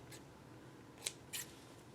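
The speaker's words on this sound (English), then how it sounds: "make a little hole big enough to stick your scissors in there. And now I'm just going to cut this way," Scissors snip through quilting fabric in two or three quick, close cuts, faint crisp clicks against a quiet room background.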